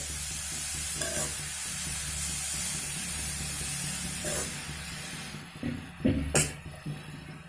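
Grated carrots for gajar halwa being stirred and roasted in a pan, with a steady soft sizzle and hiss under repeated scraping strokes of a spoon, growing a little louder and clattering toward the end.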